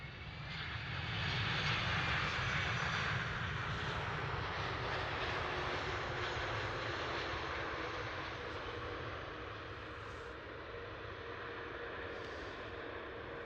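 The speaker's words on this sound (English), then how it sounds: "This is a Delta Airlines Airbus" Delta Airlines Airbus A330 airliner at Schiphol Amsterdam airport, its jet engines making a steady, loud roar that rises and then holds for the whole stretch, with no voices.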